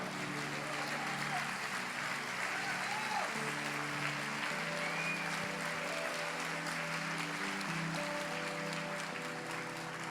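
Church congregation standing and applauding during a celebration service, a soft, steady patter of clapping heard at a distance, with voices and sustained tones beneath it.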